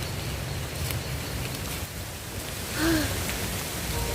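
Light rain falls steadily, a continuous soft hiss of drops that stays even and moderately faint throughout, with no voices.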